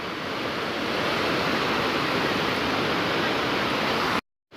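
Continuous roaring rush of a waterfall, loud and close, a dense unbroken wash of falling water that cuts out abruptly near the end.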